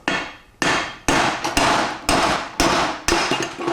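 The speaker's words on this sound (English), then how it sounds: "I'll see if I can just tap it out with a hammer." Hammer striking a mandrel to drive the pump bushing out of a Powerglide transmission, eight sharp metallic blows at a steady rhythm, each ringing briefly before the next, loud and close with no voices.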